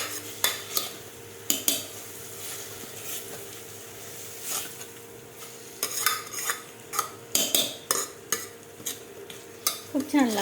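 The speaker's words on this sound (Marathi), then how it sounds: "15 मिनिटापासून फ्राय करते तिला" Spring onion greens fry with chutney, garam masala and turmeric in oil, a steady soft sizzle under repeated scraping and clinking stirs of a spoon against the pan, close and moderately loud with no talking.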